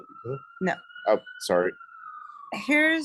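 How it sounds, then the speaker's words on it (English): A police siren on a downtown Long Beach city street holds a steady wailing tone throughout, faint to moderate and behind, while a person speaks in short bursts over it. "excuse the siren."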